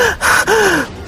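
A loud, close, out-of-breath gasp: two quick sharp panting inhalations in rapid succession, heard alone without talk.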